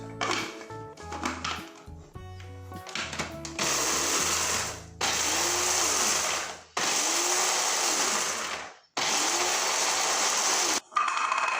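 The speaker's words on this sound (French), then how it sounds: "nous allons tout simplement y donner un petit coup de mix" A blender pulses through hummus in four loud, whirring bursts, each cut off by a short pause, after a few seconds of background music at the start.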